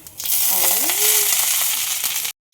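Drumstick leaves sauté gently in a pan over a low flame for poriyal, a close, steady hiss of frying that cuts off abruptly near the end, with no voices.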